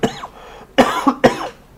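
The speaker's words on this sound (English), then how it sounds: "Sorry, I'm coughing." A person coughing three times, close and fairly loud, with a short gap after the first cough and then two harsh coughs in quick succession.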